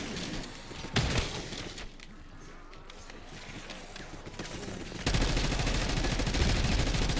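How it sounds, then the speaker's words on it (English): Machine gun fire in a multiplayer shooter video game, sustained rapid bursts heard at moderate level, with a quieter stretch between bursts and a louder run of fire near the end; players talk over it. "my machine gun's shit"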